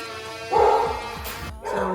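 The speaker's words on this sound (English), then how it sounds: "my dog is barking, so you probably won't be able to hear me very well" A dog barks and yips in a short series of sharp, close barks, loud against a quiet room with no talking.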